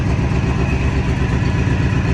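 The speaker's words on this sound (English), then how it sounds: "I got a bad exhaust leak over here" A car engine with a bad exhaust leak runs steadily, a loud, rough, continuous rumble with no pauses and no talking.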